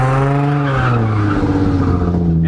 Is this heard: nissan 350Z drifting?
yes